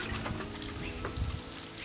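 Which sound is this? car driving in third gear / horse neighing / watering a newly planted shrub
watering a newly planted shrub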